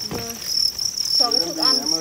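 Farmed crickets chirp in a loud, continuous high trill close by, with a few brief faint thuds beneath it.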